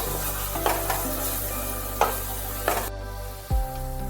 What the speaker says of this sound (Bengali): দিয়ে দিচ্ছি 1/2 চামচ মতন লঙ্কা বাটা, কাঁচা লঙ্কা বাটা